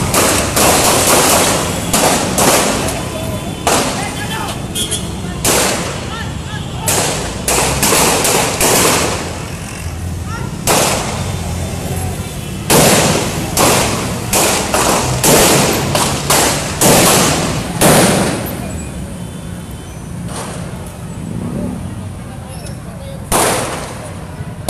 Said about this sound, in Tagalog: Medyo kanina pa po yung nagbabarilan